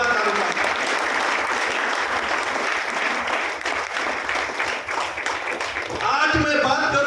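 Audience applause at an Ahmedabad leadership gathering welcoming a guest: a dense, loud wash of clapping that holds steady, then gives way to a voice speaking at the close.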